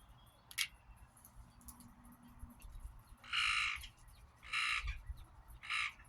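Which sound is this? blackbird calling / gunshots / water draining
blackbird calling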